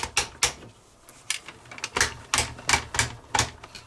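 Ratchet joints on a Zeta Toys Kronos Superion figure clicking sharply, about a dozen close, crisp clicks in uneven clusters as a limb is moved.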